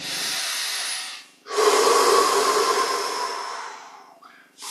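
Deep meditative breathing at close range: a long drawn-in breath, a brief pause, then a longer, forceful breath out, loud and alone.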